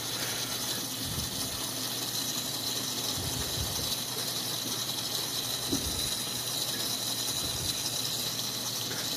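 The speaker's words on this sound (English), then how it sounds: "I have a gate valve that I can use to adjust this" Water flows steadily past a DIY pool skimmer as its gate valve is adjusted, with a soft constant rush broken by a few low mechanical knocks and clicks.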